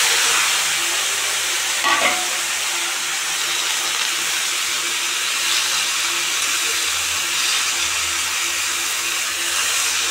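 Bottle gourd stems, potato and eggplant fry in hot oil seasoned with white and black cumin, giving a steady, loud, broadband sizzle that runs unbroken throughout with no talking.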